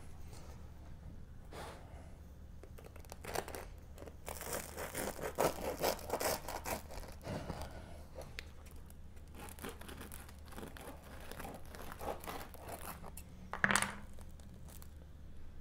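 A crusty country white loaf, baked at 500 with the lid on and then off, is sawed open with a knife: dry crackling, crumbling and scraping of crust in bursts across the middle, with a sharper crunch near the end, and no talking.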